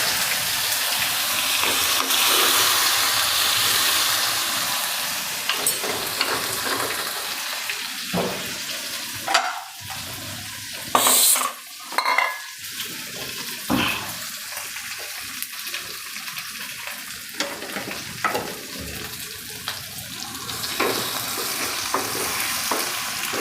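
Tomato drops into frying oil already holding chili pieces and a pinch of asafoetida, giving a loud sizzle that fades into intermittent stirring and spoon scrapes against the pan over a quieter hiss, with no talking.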